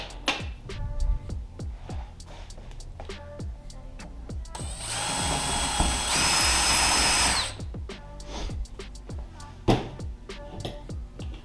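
A power drill enlarges a bolt hole in a carbon fiber hood on a Ford Mustang GT, whirring in a steady burst of a few seconds between scattered ticks, taps and handling noises.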